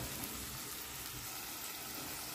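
Chopped onions with salt sautéing under a lid in a pan for a Sri Lankan-style fried fish curry, giving a steady, soft, close sizzle and hiss with faint crackles throughout.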